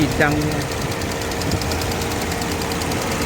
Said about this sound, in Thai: เสียงหัวฉีดดัง